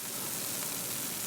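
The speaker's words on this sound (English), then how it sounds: "You can hear that sizzle." Freshly fried sheephead fish set on paper towels gives off a steady, hissing sizzle, soft and continuous with no voices.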